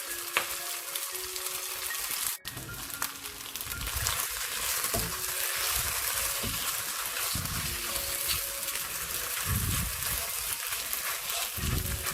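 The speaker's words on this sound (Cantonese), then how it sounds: "呢個腸粉咧可以稍為煎一煎佢先，唔好喐佢。" Rice noodle rolls pan-fry in a wok with a continuous close, crackly sizzle that stays loud and steady, broken once by a sharp knock early on.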